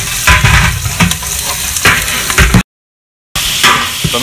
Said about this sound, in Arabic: رمينا البطاطس مع البصل